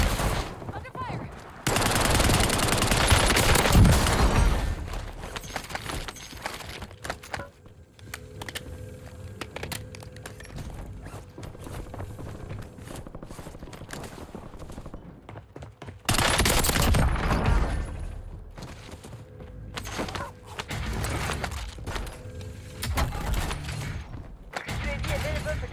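Rapid automatic gunfire in the Call of Duty Warzone video game, loud and sustained in dense bursts with short lulls, mixed with game effects and speech.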